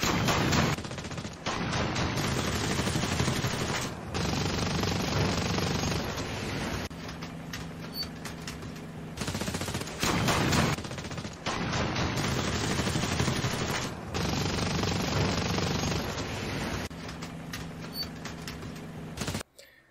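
Aircraft machine guns fire in long rapid bursts in the War Thunder video game, loud and close with a cockpit-like muffled tone, broken by short pauses between volleys.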